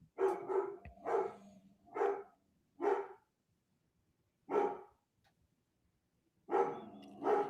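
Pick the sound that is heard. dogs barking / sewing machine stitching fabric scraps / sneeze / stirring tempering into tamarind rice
dogs barking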